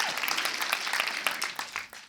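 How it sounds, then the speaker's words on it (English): An audience at an inspirational talk breaks into applause, a bright, fairly steady patter of many hands that fades away at the end, with no voices over it. "Yeah, let's clap."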